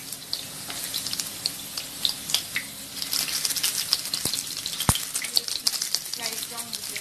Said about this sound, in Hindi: आलू फ्राई हो रहा है